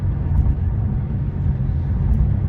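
Low, steady road rumble inside a moving car, a dense continuous drone with no speech or distinct events over it.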